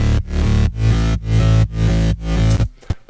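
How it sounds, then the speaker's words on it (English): Gritty distorted super saw bass layered over a powerful sub bass in a progressive pop production, loud pulsing held notes with short choppy gaps between phrases, alone and up close. "the gritty bass is pretty much just a distorted super saw"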